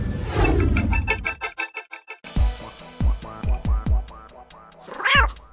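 A cat meows repeatedly, giving a series of distinct, close, loud calls in an uneven rhythm with short gaps between them, alone with no talking.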